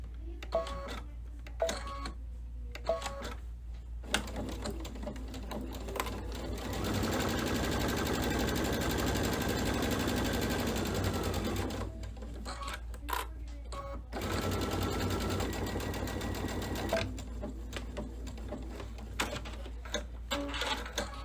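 A sewing machine stitches a quarter-inch seam and finishes with a tie-off, running in short stuttering bursts, then a longer sustained whir, then more brief bursts, close by and moderately loud.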